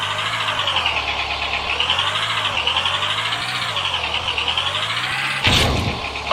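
Car engine idling in a Roblox game, a steady mid-pitched drone with a slow wavering pulse running close and continuous, broken near the end by a short burst of noise.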